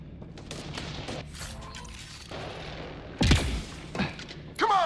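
Video game gunfire in a tense firefight, with scattered shots and mechanical clatter in the background followed by a few sharp, louder impacts near the end.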